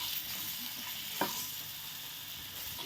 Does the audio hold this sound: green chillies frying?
yes